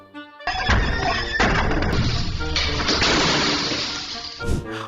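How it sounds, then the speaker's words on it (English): A horse knocks down a giant slab of glass, giving a loud sudden crash followed by several seconds of shattering and clattering debris that slowly fade, with a brief later thump. "this horse ignores this giant slab of glass he knocked down"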